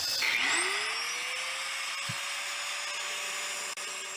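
An angle grinder spins up to a high, steady whine while sharpening a lawn mower blade, close and loud throughout with no speech.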